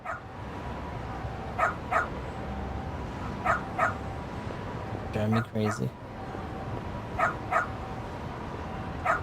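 A dog barks indoors in repeated sharp pairs and small clusters at moderate distance, interspersed with yips, while a person speaks briefly partway through.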